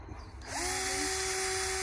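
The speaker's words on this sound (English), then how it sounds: "we are drilling holes into the new license plate." A power drill spins up and whines steadily at high pitch, drilling holes into a license plate, a loud continuous mechanical drone after a brief moment of background noise.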